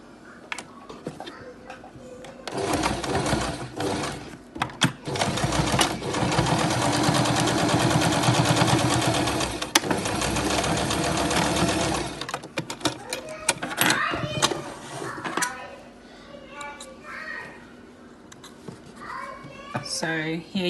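Electric sewing machine stitching a handmade cotton face mask, running in one steady, fairly loud whirring burst of about ten seconds, with shorter bursts and pauses after it and brief talk around the stitching.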